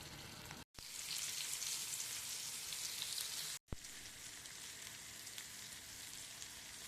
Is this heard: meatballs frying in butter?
yes